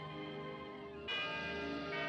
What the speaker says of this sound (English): And there are the bells again.